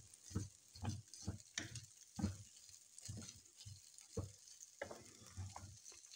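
Boiled macaroni frying in a pan, with rhythmic tapping and scraping of a spoon stirring, irregular knocks over a faint sizzle, close and fairly quiet, with no talk.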